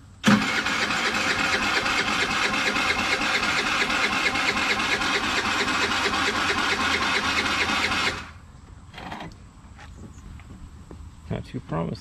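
A small engine, left unused for about two weeks and nearly out of gas, cranks and runs loud and steady for about eight seconds before cutting out, followed by faint clicks and a few short knocks.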